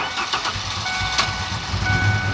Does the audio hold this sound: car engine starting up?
yes